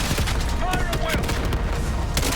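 Gunfire in the Call of Duty: Black Ops 6 video game, dense overlapping shots and booms in a chaotic firefight with continuous battle noise throughout.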